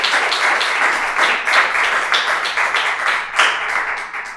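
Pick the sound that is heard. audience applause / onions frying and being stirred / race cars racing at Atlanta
audience applause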